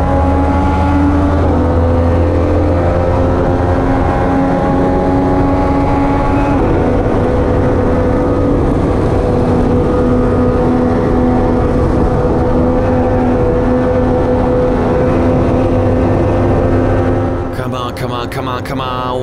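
Race car engines in a racing video game drone at high revs, a loud continuous layered whine with shifting pitch for nearly twenty seconds before a brief change near the end.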